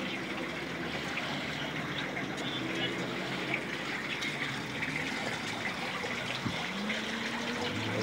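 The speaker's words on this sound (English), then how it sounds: "That's a waterfall right here." Waterfall in Martin Luther King Park, Raleigh, North Carolina, a steady, soft rushing and splashing of water that runs without a break, faint and moderately distant.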